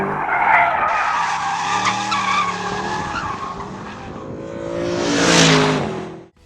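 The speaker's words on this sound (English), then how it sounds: "we're going to drive a new car that AMG just came out with, the SLS AMG" A 2013 Mercedes-Benz SLS AMG GT sports car tears along a race track, its tires skidding and squealing loudly through a long slide as the engine revs rise and fall, close and with no talk.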